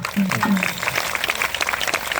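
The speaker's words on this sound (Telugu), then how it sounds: "శబాసి మీ ఇద్దరికి ఒకసారి గడ్డే చప్పట్లు కొట్టండి" An audience clapping at a village temple festival gathering, scattered hand claps heard under a voice speaking loudly, with a short sung or drawn-out vocal tone at the start.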